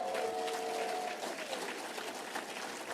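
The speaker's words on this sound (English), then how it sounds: "I love that you're all clapping for that." An audience at a First Lady's speaking event in Green Bay claps in a steady, moderately loud wave of applause, with a brief tonal whistle-like sound near the start.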